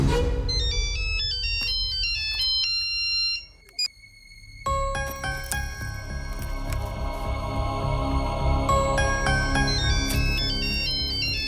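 Mobile phone ringtone playing a loud electronic melody of bright repeating tones, pausing briefly midway and then resuming with a fuller, busier tune, with no talk over it.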